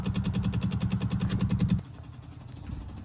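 An electric fuel pump on a Lotus Elan restomod runs with a rapid, pulsing mechanical buzz up close, then cuts off abruptly, leaving a faint background hum.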